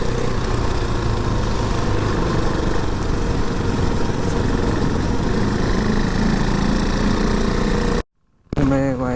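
Royal Enfield Interceptor motorcycle engine rumbles loudly and continuously while riding on city streets, a steady thrumming drone with wind noise that cuts out abruptly near the end before resuming briefly.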